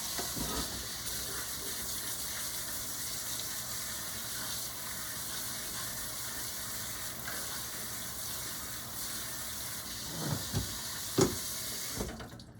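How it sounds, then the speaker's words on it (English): Tap water runs steadily into a sink to rinse canned beans, a constant close gushing hiss that continues to the end, with a few clunks and knocks near the finish. "So I'm going to give these a rinse."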